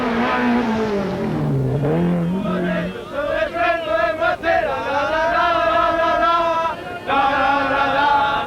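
Rally cars race flat out at the 1986 Critérium des Cévennes, Group A Renault 11 Turbos among them, engines revving hard with rising and falling harmonic whine as gears change, loud and close throughout.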